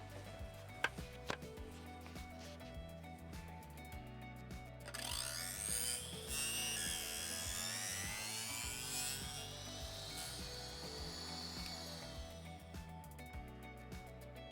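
A small tabletop mini table saw slices through picture frame wood, its high whining cut starting abruptly and running steadily for several seconds before trailing off, heard alone and fairly close.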